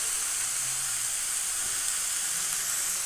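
Red spinach (lal saag) sizzles in a hot pan, a continuous bright hiss of frying that stays loud and even throughout, with no talking.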